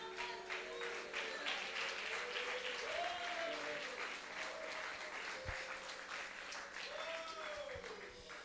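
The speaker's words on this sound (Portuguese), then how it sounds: "Pode aplaudir a Jesus." A church congregation applauds during a sermon, steady clapping with some voices and rising calls mixed in, faint and distant throughout.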